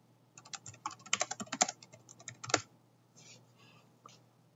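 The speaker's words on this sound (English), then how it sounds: "then you can write text onto the display using your PC keyboard" Typing on a PC computer keyboard: a quick burst of irregular key clicks, close and distinct, that thins out into a few scattered keystrokes and light rustling.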